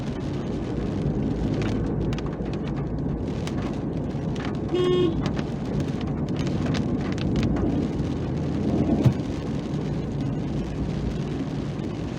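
Steady rain falls on the rocky, foggy hilltop of Nandi Hills in Karnataka, a dense, even hiss with a brief louder patter partway through, and no voices.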